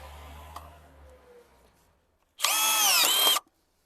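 A Metabo BS 18 L BL cordless drill driver runs in one loud, steady burst of about a second, whirring alone after a quiet stretch of low background noise.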